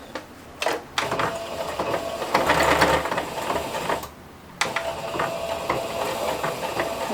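A home sewing machine stitches a bias binding fold on a diagonal pencil case, running in steady close bursts with a brief pause, loud and mechanical with no talk over it.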